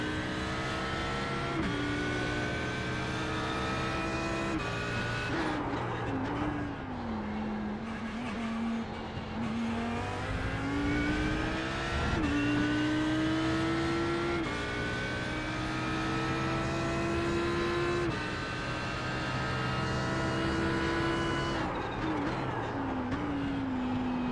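GT3 race car engine in the iRacing sim, a steady loud roar rising and falling in pitch through repeated gear shifts and acceleration over the lap, alone without talk.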